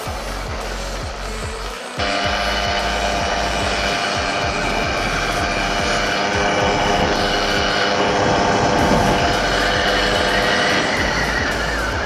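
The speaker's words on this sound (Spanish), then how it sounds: "esto solo es una pequeña prueba de cómo, de cómo va el motor" A Derbi Variant moped's small engine runs steadily and loudly after a brief lower idle, its buzzing drone rising slightly then holding.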